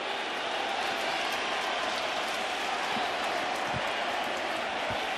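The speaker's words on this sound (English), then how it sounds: "This crowd is so into it." Dense, steady crowd roar and applause filling a baseball stadium during an Angels versus Yankees game, loud and continuous throughout with no pauses.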